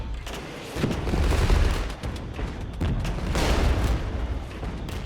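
T-72 tanks firing at mortars in the video game Regiments, heavy booming shots and artillery rumble rolling in repeated waves amid continuous battle noise.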